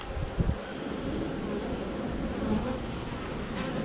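A steady swarm of honey bees drones continuously at close range, a dense low hum with light wind rumbling across the microphone.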